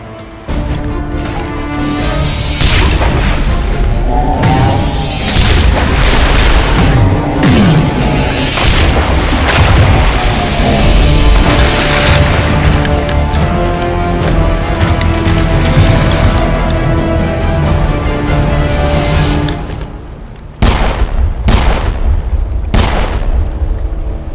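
Dense, loud gunfire and booming explosions from a Mass Effect video game battle fill the scene without a break, with repeated sharp bursts and heavy blasts, then a brief dip before a few more hard cracks near the end.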